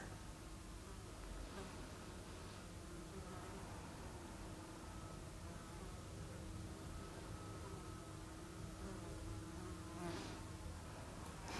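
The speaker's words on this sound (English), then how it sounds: "Don't know if you can hear the fly buzzing around me" A fly buzzes close by in a quiet indoor space, a soft, steady drone that shifts slightly in pitch as it circles, without voices.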